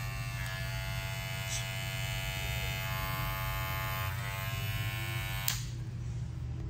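A gold electric hair clipper with its lever open buzzes steadily up close, a constant high-pitched motor whine with slight changes as it is handled, and no voices.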